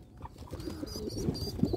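Soft, low pigeon cooing repeats through the clip, close by, with a faint higher chirp and a steady background murmur.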